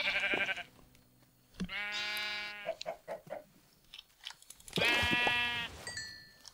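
Sheep in the Minecraft video game bleat loudly and close by in two long wavering calls, with a few short clicks and game noises in between and no talk.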